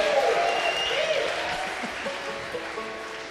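A crowd gives a band a warm round of applause at a church service, a dense, steady patter of many hands that gradually fades, with a voice briefly heard above it.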